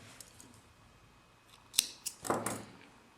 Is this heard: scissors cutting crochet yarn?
yes